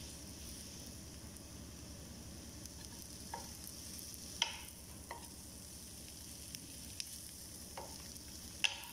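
Fish frying in butter in a pan, a steady, soft sizzle and crackle that runs throughout, with occasional sharp pops and utensil clicks.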